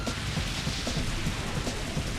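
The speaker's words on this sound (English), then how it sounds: "And it's now raining." Rain beginning to fall during a Pokemon XD battle, a steady wash of rainfall hiss with soft low rumbles pulsing underneath, continuous and moderately loud, no voices.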